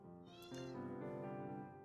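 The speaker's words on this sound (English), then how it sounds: "Cat." A cat meows twice in close succession, loud and near, with a rising, drawn-out second call, alone with no talk over it.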